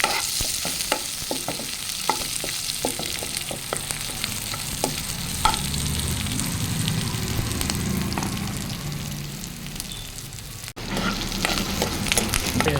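Curry leaves and onion fry in hot oil for sambar, a steady broad sizzle with scattered crackles and occasional stirring scrapes, close and fairly loud, a brief dip near the end before the frying resumes.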